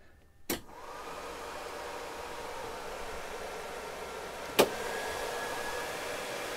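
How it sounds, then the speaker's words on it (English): An all-electric cabin heater in a 1966 VW Microbus blows a steady rushing fan noise, switched on with a click and running evenly, with another sharp click a few seconds later. "So that's an all-electric heater, and it really warms the cabin up super quick."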